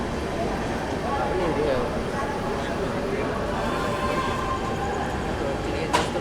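An Amritsar Dehradun Express hauled by a WAP-7 electric locomotive passes, its wheels and coaches giving a continuous rushing rattle at moderate level, with a brief sharp clank near the end.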